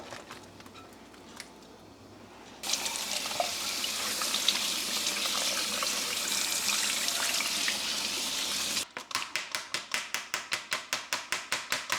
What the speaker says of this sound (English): we're gonna give them a quick rinse